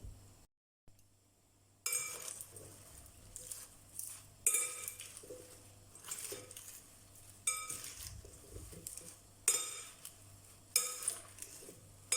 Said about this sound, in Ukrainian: І перемішуємо до однорідності.